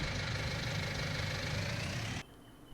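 A tractor engine in Farming Simulator 19 runs with a steady, thick mechanical drone for about two seconds, then cuts abruptly to near quiet.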